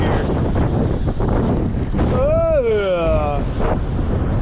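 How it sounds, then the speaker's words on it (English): Strong wind roars steadily across the microphone with breaking waves on the open sea aboard a sailboat, loud and continuous throughout, and a brief rising, falling tone cuts through midway. "The sooner we can get south, the sooner this wind will quit and the waves will die off a bit"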